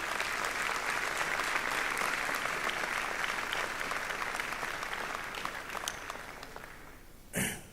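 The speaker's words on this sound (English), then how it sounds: "Miss Willetta Lewis, please give her applause." Sustained applause from an audience at a university Founder's Day convocation, strong at first and then slowly thinning out, ending with a brief close bump or snort.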